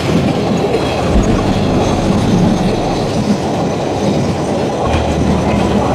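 A train runs along a railway line in Cumilla, Bangladesh, with a loud, steady rumble and the rhythmic rattle of wagons and wheels lasting the whole stretch, with no voices.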